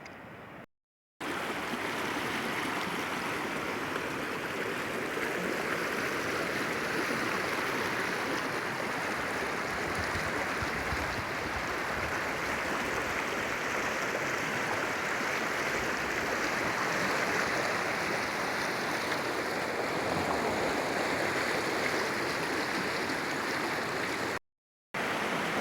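Cold mountain river in the Grand Canyon, Arizona, near Phantom Ranch, rushing steadily with broadband water noise throughout, close and loud, briefly cutting out at the start and end.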